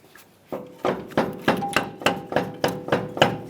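A hammer drives a CV axle into the steering knuckle of a 2015-2020 Ford F-150, with about ten sharp, evenly spaced metallic blows, close and loud.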